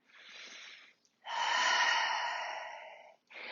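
A person breathing during a slow flow yoga session, with soft, close inhale and exhale breaths separated by brief pauses.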